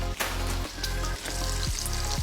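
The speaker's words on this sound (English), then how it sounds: "You can hear that sizzle." Bacon sizzles and crackles loudly in an Instant Pot, a steady frying hiss with occasional pops and stirring, no talking.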